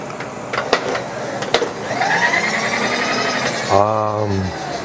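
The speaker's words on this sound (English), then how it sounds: "We're just going to take a skim cut on them." A lathe or similar machine tool whirs steadily while taking a light skim cut on a small metal part, a continuous mid-pitched mechanical whine with a few faint knocks early on, and a voice speaking near the end.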